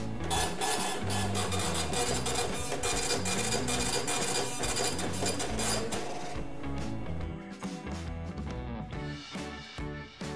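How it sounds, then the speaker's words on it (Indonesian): An Epson TM-U220 dot-matrix receipt printer printing a receipt: a loud, continuous buzzing rattle of the print head with rhythmic mechanical clicks, close by, easing into lighter ratcheting as the paper feeds out near the end. "Oke, lanjut kita coba cetak struk."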